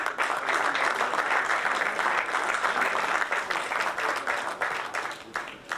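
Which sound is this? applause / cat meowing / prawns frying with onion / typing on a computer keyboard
applause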